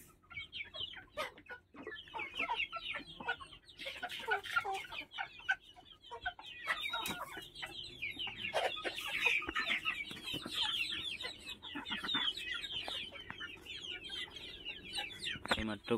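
Local farm chickens clucking and squawking in a busy flock near feeding time, repeated bursts of close clucks and cackles over a low background, with faint talk in places.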